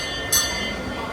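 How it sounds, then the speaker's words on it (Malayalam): A train running indoors through the ICONSIAM shopping mall in Thailand gives a steady, even rumble with one short, sharp hiss burst near the start, heard alone without talk. "മാളിൻ്റെ ഉള്ളിൽ കൂടെ ട്രെയിൻ ഓടുന്നു"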